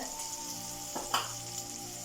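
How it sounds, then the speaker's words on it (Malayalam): Sliced onions hit hot oil seasoned with turmeric powder and give a soft, steady sizzle. One brief stir or scrape cuts through near the middle, heard up close and fairly quiet with no talk. "അതിലേക്ക് നമുക്ക് സവാള ഇട്ട് കൊടുക്കാം."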